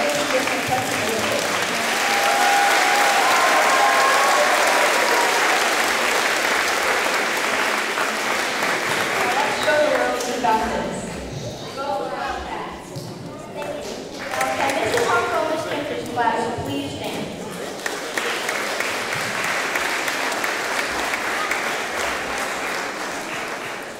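A long round of applause from an elementary school graduation crowd for fifth-grade graduates and an assistant principal, dense and steady, dipping briefly midway, with cheers and voices mixed in.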